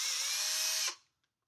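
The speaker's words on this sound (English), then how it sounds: "to power a drill and turn a screw" An electric drill whines loudly and steadily as it drives a screw, then cuts off abruptly, leaving a brief faint click in the quiet.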